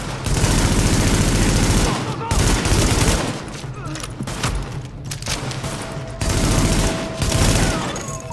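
Sustained automatic weapon gunfire from the video game The Division, with dense, loud bursts of rapid shots running nearly nonstop and brief lulls, plus faint voice chatter underneath.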